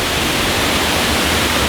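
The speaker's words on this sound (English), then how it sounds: "I don't know if you can hear how loud the water is" A loud waterfall on the Cambrian Way pours down close by, a dense, steady roar of crashing water that fills everything with no pause or change.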